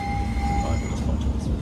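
A West Midlands Metro tram at Wolverhampton rumbles steadily with a low, continuous roar and a sustained electrical whine, heard from on board at close range.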